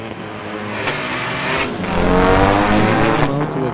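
A 1960 and a 1962 Volkswagen drag race at Mission Raceway, their engines revving hard in a loud, steady roar that swells midway as they accelerate down the strip.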